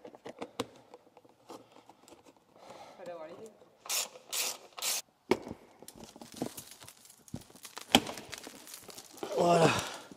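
Plastic undertray being unclipped and pulled off beneath a car on a scissor lift to expose a DSG gearbox drain: scattered clicks, rubs and plastic rattles, with louder clattering bursts midway and near the end, and some quiet talk.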